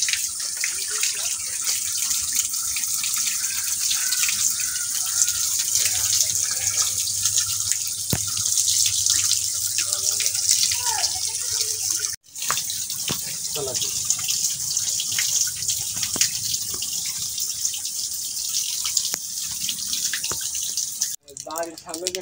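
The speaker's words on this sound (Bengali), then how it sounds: "টিউবওয়েল থেকে অটো পানি বের হচ্ছে, চাপা লাগছে না" Water pouring by itself from a hand-pump tubewell with its handle tied down, a steady close splashing flow that runs on throughout, with voices talking in the background at times.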